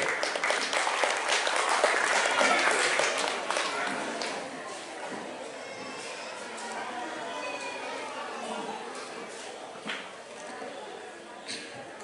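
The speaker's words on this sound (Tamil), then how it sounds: "இங்கே உங்களுடைய உற்சாகமான பலத்த கரகோஷம்." Audience applause at an award event in a banquet hall, strongest at the start and then thinning into scattered claps beneath ongoing room chatter and talk.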